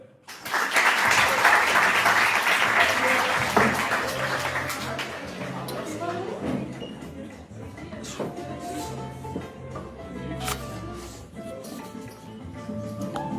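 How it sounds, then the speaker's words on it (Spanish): An audience gives a strong round of applause to welcome a speaker at a school talk, dense clapping swelling quickly, holding for several seconds, then thinning into scattered claps and murmuring voices. "Demos un fuerte aplauso a Pablo Vélez"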